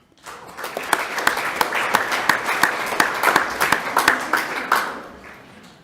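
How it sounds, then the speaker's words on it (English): A school board meeting audience claps for a group of students, distinct individual claps merging into a steady moderate round that rises quickly, holds for several seconds and then fades. "Let's give all these students another round of applause."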